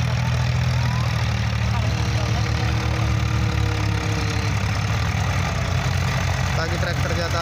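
An old Powertrac tractor labours uphill pulling a fully loaded trolley, its engine a steady, close, low throbbing drone that holds without pause while a voice talks over it.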